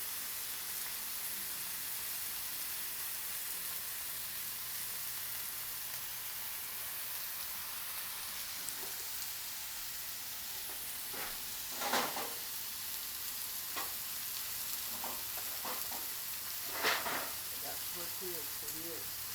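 Fajitas sizzle on a 36-inch Blackstone griddle top, a steady broad hiss running the whole time, with a few brief louder crackles and flares near the end and people talking quietly in the background.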